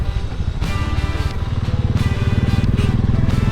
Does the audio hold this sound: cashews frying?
no